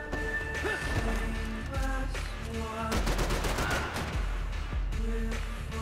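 Rapid bursts of gunfire from Max Payne 3 at an airport, repeated sharp shots and automatic fire crackling over a music bed, with a dense volley in the middle and scattered shots around it.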